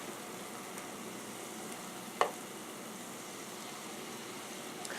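Funnel cake fries cooking in a deep fryer give a steady, faint hiss of bubbling oil, broken by a single sharp click partway through. No one speaks.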